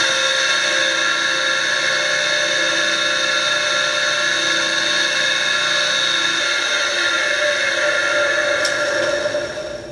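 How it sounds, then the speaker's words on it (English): A Doerr Electric Model 1499 grinder motor runs loud and close with a steady whine and hum, its pitch shifting slightly partway through and easing toward the end. "Well, we have a working grinder."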